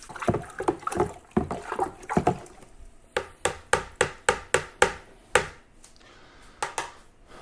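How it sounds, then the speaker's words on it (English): Lemon berry wine mixture being stirred in a container, giving a quick series of knocking, clunking strikes with some sloshing, close and fairly loud, then pausing before a few final knocks. "Okay, so then we're going to give it all a mix up."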